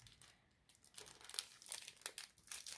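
Quiet crinkling and rustling of wrapping as a Christmas package is opened, in soft irregular bursts with no talking.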